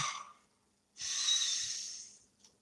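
A long, deep breath drawn in and slowly let out during a quiet tarot reading, soft and near, with a brief exhale before it and no talking.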